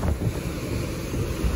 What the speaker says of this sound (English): It's windy, in case you don't know.